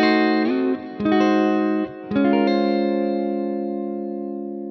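A lo-fi neo soul riff on electric guitar moves through diminished 7th chords, the notes sustained with heavy effects and clipped by two brief gaps, then a final chord rings out and slowly fades.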